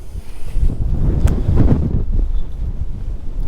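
Strong wind buffets the microphone at Capdepera Castle in Mallorca, a loud, low rumbling roar with gusts swelling and easing throughout.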